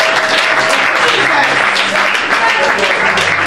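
Congregation at a church Bible teaching service applauding steadily, a dense continuous wash of clapping and cheering voices that stays loud and unbroken throughout.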